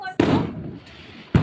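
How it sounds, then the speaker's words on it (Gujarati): Firecrackers set off nearby outdoors, two sharp bursts about a second apart with a brief crackling decay between them, fairly loud. "ફટાકડા હે"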